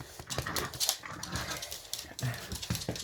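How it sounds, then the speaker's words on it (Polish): A hungry dog close by makes short whimpering, snuffling noises in restless bursts, with no talking. "Zobaczcie, jaki głodny pies"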